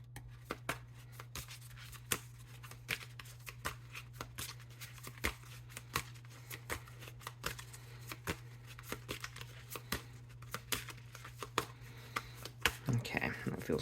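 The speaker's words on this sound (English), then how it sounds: "Let's shuffle this just a teeny bit more." Tarot cards being shuffled by hand, a steady run of soft riffling clicks and flutters close by, with a low constant hum underneath and no talking.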